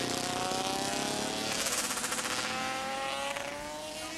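A 1975 superbike screams down the steep 1-in-7 descent at Brands Hatch, its high-revving engine loud and close with a rising and falling pitch as it passes through the gears, with no voices.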